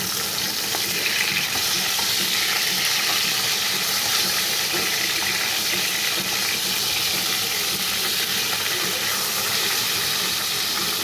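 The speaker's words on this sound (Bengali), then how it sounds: "এখানে কড়াইতে সরষের তেল দিয়েছি, তেলটাও গরম হয়ে গেছে। তো আমি মাছটা ছেড়ে দিচ্ছি ভাজার জন্য।" Chital fish sizzles steadily in hot mustard oil in a wok, a loud, continuous, dense crackling hiss with no talk, holding even for the whole stretch.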